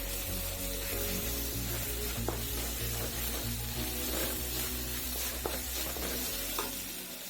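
Ground ginger garlic paste hits hot oil with cumin seeds in a pan, sizzling loudly and steadily with a dense frying hiss and occasional stirring scrapes, close by.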